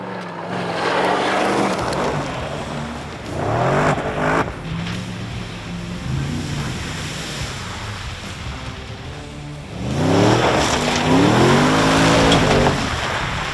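A 2018 Harrop Superado ute with a supercharged LS V8 is driven hard on a track, its engine revving up through rising gear pulls with loud roaring surges and brief lifts between them. No one speaks.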